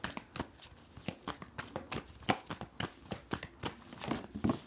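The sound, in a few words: shuffling and drawing tarot cards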